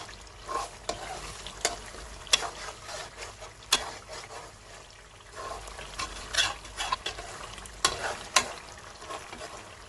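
Chicken karahi with black pepper stir-fried over a full flame, loud spatula scrapes against the wok repeating unevenly over a continuous frying sizzle, close and busy with no voices.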